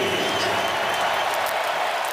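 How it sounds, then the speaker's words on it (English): A stadium crowd at a Pro Bowl football game in University of Phoenix Stadium cheers and applauds in a dense, steady roar, with a commentator's voice blended into it. "Which brings a cheer from this crowd here at University of Phoenix Stadium."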